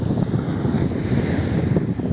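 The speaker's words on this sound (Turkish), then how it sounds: "Biraz rüzgar tabii ki deniz kıyısı olduğu için." Steady wind buffets the microphone on an open seashore at Musalla beach in Çeşme, Turkey, with a constant low roar like surf underneath and no voices.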